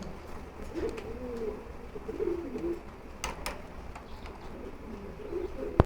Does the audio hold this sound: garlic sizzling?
no